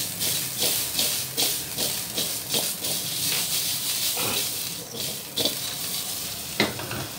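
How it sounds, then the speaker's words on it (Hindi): Potatoes fry slowly in a pan with a loud, close hissing sizzle that swells and ebbs in repeated bursts, as if turned or stirred, with an occasional sharper crackle. "ये देखिए, ये आलू जो हैं ये सेक रहे हैं आहिस्ता आहिस्ता।"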